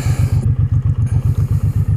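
A 2015 Suzuki M109R motorcycle engine idles close and loud with a deep, even lumpy pulse thumping about seven times per second.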